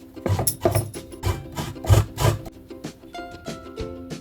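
Fresh coconut flesh rasped for a Goan fish curry, with rhythmic rough scraping strokes repeating about twice a second, close and fairly loud, then slowing toward the end.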